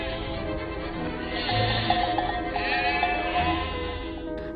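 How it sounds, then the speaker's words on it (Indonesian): Sheep bleat repeatedly as they are herded into a pen. Several overlapping bleats sound at moderate distance over a steady background rustle. "tiba-tiba Belle datang lagi untuk membantu Sep memasukkan sebagian domba itu ke dalam kandang"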